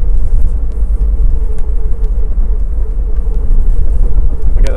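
A Triumph TR7 engine idles and runs roughly and unevenly as the car is driven, a steady loud low rumble throughout with no talking.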